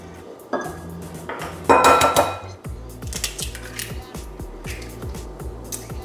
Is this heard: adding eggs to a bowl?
yes